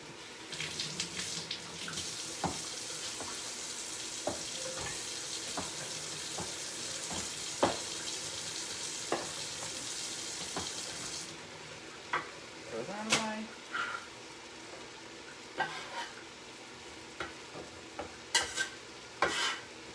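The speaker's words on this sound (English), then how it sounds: "we're just going to take a stir on the carrots" Carrots and celery for escarole soup cook in a pot with a soft sizzle and occasional spoon clinks while stirring, after a long stretch of running tap water at the start.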